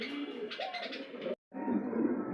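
Racing pigeons kept with their young coo and murmur steadily at close range, a low, continuous burble that cuts out for a brief moment before resuming.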